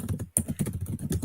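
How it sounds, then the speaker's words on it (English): Loud, fast typing on a computer keyboard fills the clip with a dense run of clacking keystrokes, close and prominent, broken by one brief pause. "That's some loud typing."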